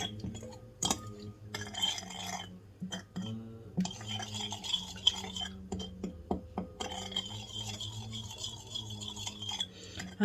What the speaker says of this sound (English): we're just going to give it a mix for all the ingredients to combine together